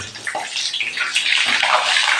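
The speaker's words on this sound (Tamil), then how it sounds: "தண்ணியை வச்சு எந்த பொருள் எண்ணெயில் போட்டாலும் வெடிக்கும்" Hot oil sizzles and sputters loudly up close as wet ingredients hit it, a crackling, spitting hiss that keeps going without pause.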